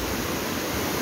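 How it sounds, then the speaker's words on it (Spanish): Swollen river after heavy rains, its current rushing at full force, heard as a loud, steady broadband roar of churning water filling the whole short stretch, close and unbroken, with no voices over it. "ya lo arrastró debido a las corrientes, ¿verdad? Con gran fuerza, y se lleva todo,"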